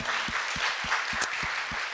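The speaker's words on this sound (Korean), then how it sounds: "하나님께 감사의 박수 올려드립니다." A church congregation at a concert claps together in a steady, even rhythm, roughly three to four claps per second, over a low background wash of room noise.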